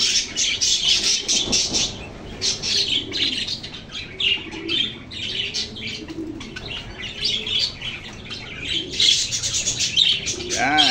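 Parakeets and lovebirds kept in cages at a pet market chirp and tweet busily, with overlapping calls and brief wing flutters close by, and a voice speaks briefly among them.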